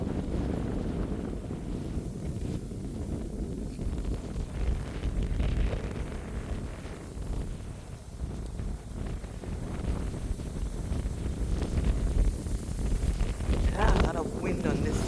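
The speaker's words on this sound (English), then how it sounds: "Yeah, a lot of wind on this point right here." Strong, steady wind gusting across an open salt marsh point, roaring into the microphone as a continuous broadband rush with no let-up.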